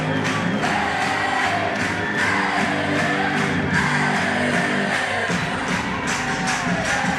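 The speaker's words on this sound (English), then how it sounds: "How sweet is this home run to tie up this ball game? And this crowd, they are right in the middle of it." A stadium crowd at a women's college softball game between Texas A&M and Liberty roars in a sustained, dense wall of cheering and yelling after a game-tying home run, loud and continuous throughout.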